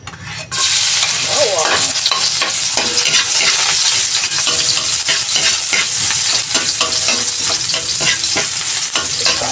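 Garlic sizzles loudly in a hot pan while being stirred for a Filipino chicken pochero, a close, continuous frying crackle with scraping stirs throughout and no talk.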